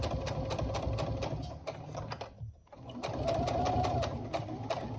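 A sewing machine runs steadily while top stitching across the top of a tote bag, its rapid needle rhythm dropping out briefly midway and then resuming at full, close volume.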